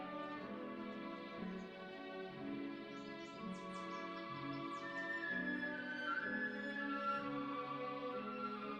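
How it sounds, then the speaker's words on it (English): Bird calls in a Sherlock Holmes video game, a few faint, brief chirps high above a steady, sustained musical backdrop. "I hear a bird."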